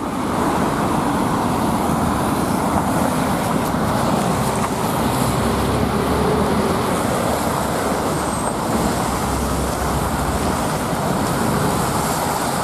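Continuous street traffic roars along a city road near bridges, a dense steady wash of passing cars and buses heard up close while walking.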